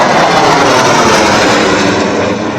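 Indian Air Force fighter jets, including a Sukhoi Su-30 MKI, a Mirage 2000 and a Jaguar, streak past at an expressway airstrip show with a loud, sustained jet roar at close range and no talk.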